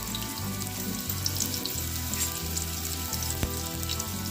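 Chopped onion and bay leaf sizzling in hot oil for Malvani chicken rassa: a steady, close crackling fry with a faint background hum and one sharp clink partway through, no voices.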